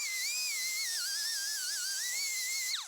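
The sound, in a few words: sanding wood with Norton Blaze 50 grit Roloc disc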